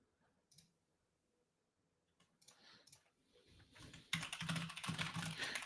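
Keys clatter on a computer keyboard, starting with faint sparse taps and building into a fast, loud, steady stream of clicks near the microphone.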